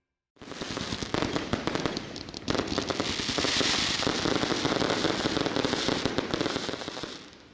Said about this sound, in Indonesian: Kemeriahan malam pergantian tahun diwarnai dengan pesta kembang api